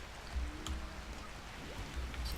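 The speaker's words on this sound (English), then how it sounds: "while it continues to rain" Steady rain falling in the video game Rimworld, a soft continuous patter with faint low rumbles, moderately quiet and without talk.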